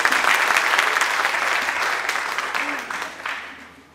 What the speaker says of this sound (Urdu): بھرپور تالیاں بجا دی